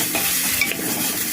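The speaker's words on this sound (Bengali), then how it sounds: "মুগ ডালটা হালকা ভাজা হয়ে গেলে এবারে আলুগুলো এখন ওপর থেকে দিয়ে আরও একটু ভালো করে ভেজে নিচ্ছে।" Moong dal and potatoes fry and get stirred in a pressure cooker, giving a dense, steady sizzle with soft scraping throughout.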